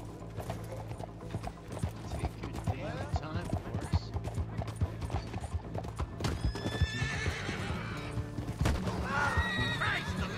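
Horse in the Red Dead Redemption western video game, with rhythmic clip-clopping hooves, several loud neighs and whinnies, and game voices talking over the action.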